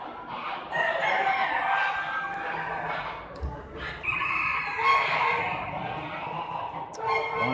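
Chickens and roosters at a fall poultry show cluck and crow almost without pause, with overlapping calls from several birds and a busy, crowded feel.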